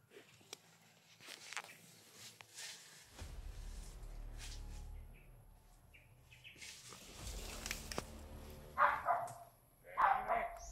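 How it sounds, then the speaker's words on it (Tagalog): Several sharp dog barks, two louder ones near the end, over a busy outdoor background with rustling, faint bird chirps and some movement. "Kaya pala may mga aso dyan."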